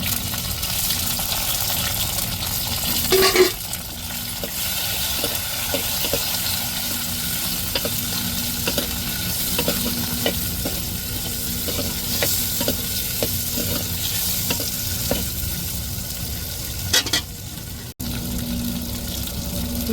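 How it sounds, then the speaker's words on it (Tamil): Tomatoes and chilies sautéing in hot tempering oil with curry leaves for a fish curry, a continuous close sizzle broken by repeated light stirring scrapes and a brief clatter near the end. "இப்போ தக்காளி மிளகாயை வதக்கி விட்ருவோம் தாளிப்புலையே"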